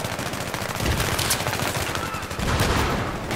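Rapid gunfire in Battlefield 3, a dense, continuous rattle of shots filling the whole stretch, loud and close with distant bursts layered underneath.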